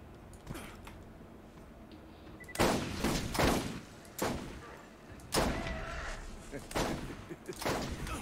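Gunfire bursts in the video game Borderlands, several loud volleys at uneven intervals over a steady background hum, with a voice talking briefly between shots.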